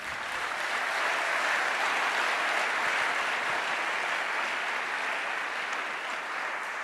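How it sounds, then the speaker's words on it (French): Church congregation applauding and cheering during a sermon, a dense, steady roar of clapping from a large crowd that holds loud and even throughout. "Oh, acclame plus fort que ça."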